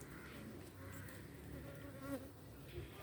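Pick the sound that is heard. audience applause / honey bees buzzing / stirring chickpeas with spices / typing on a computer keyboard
honey bees buzzing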